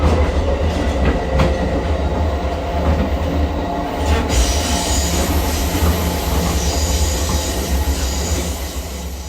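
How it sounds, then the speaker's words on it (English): A train runs steadily along the tracks at speed, with a constant loud rumble, rhythmic wheel clatter and occasional high metallic squeals. No voices break the continuous noise. "At first, the train was slow out of the station, but once it left the built-up areas,"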